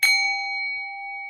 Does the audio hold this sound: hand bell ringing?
yes